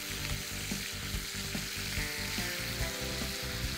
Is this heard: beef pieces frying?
yes